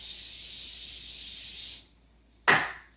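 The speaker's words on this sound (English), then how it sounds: "I'm using coconut spray to caramelize the onion and the pineapple." Coconut oil cooking spray hissing steadily from a can into a hot pan for nearly two seconds, followed after a short gap by a brief second spray burst, close and clear with no talking.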